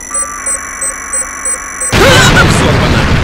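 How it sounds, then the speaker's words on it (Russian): Rhythmic electronic beeps tick along, then a sudden loud blast erupts into a sustained rumbling explosion with crackling debris, in the video game Point Blank. "Взорвано."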